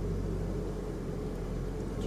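Car reversing slowly up a steep slope with the accelerator pressed very lightly: a constant, close, low engine rumble with a steady droning tone and no clear revving.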